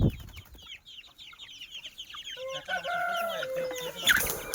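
Chickens cluck and a rooster crows among young chicks at a poultry sale, with repeated close calls that build into a loud crow near the end.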